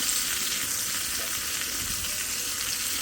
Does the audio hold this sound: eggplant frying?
yes